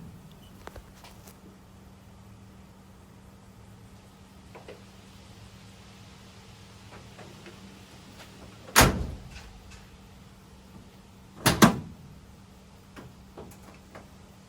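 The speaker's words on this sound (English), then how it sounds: "After placing the rubber bumper on the other side, test out the tailgate." Tailgate of an LDV T60 ute fitted with an OCAM4x4 lift assist, dropping open and then shutting: two loud thuds a few seconds apart, with faint clicks and low background hum around them and no talk.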